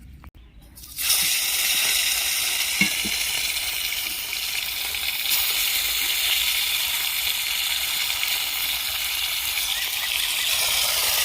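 Aila fish with turmeric fry in hot oil, a loud, even hiss that starts suddenly after a moment of near-silence and holds steady, with faint pops.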